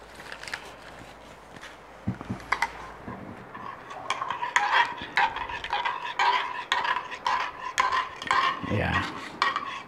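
A spoon stirs coffee in a cup, giving repeated quick clinks and scrapes against the ceramic that grow busier after a quiet start, close and fairly faint.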